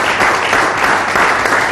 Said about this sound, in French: Merci d'applaudir le général.